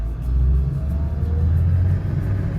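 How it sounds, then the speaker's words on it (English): A truck camper driving uphill on a snowy road, heard from inside as a loud steady low engine rumble with slight revving. "This is Kate's first time driving in snow"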